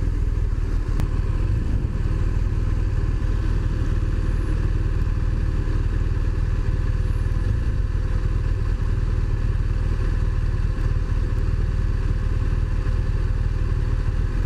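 BMW R1200RT motorcycle riding over a stretch of cobblestones: a constant engine drone with rumbling, rattling road noise, steady and loud throughout and heard from the rider's position.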